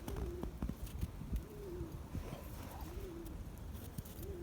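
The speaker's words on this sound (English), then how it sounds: "Now we got some happy birds coming." Wild birds coo at a backyard feeder, several soft repeated pigeon-like calls at close range over steady low outdoor rumble, with no talking.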